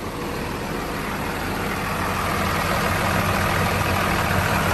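A 2004 Komatsu WA200PT-5 wheel loader's diesel engine, similar to a 24-valve Cummins, runs steadily close by, a loud continuous rumble with a broad hiss that builds slightly toward the end.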